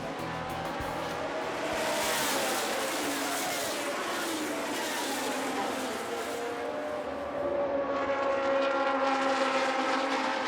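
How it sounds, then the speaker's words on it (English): Historic racing cars flying around the Silverstone Grand Prix circuit at The Classic 2022 make a loud, continuous engine roar that swells and fades as they pass, with no talk over it. "Cars up to speed and flying around the Silverstone Grand Prix circuit."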